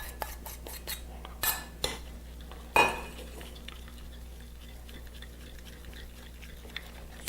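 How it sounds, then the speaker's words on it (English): Egg yolks being stirred into a chocolate mixture for chocolate soufflés, with a utensil clinking against the bowl in sparse taps and one sharper knock partway through, close and fairly quiet with no talk. "Mix that all together."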